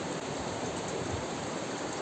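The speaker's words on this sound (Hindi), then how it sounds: "इस पत्थर से ना जैसे नदी बहती है ना, वैसे सूं की आवाज़ आती है।" Water pours constantly from a rock spring in a hillside forest, making a steady rushing hiss like a river. The sound is unbroken and moderately loud, with no voices.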